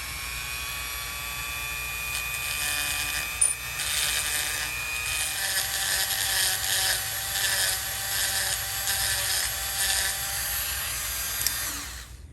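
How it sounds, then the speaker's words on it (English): A cast aluminum cylinder head from a 1967 Honda Z50M being scuffed with a rotary tool before TIG welding, a continuous whirring grind with pulsing strokes, close and steady with no voices. "you're gonna wanna just lightly scuff that surface and make it shine"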